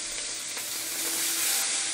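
Steak fries in a hot pan, giving a steady, close, full hiss of sizzling fat that holds without a break and without any voices.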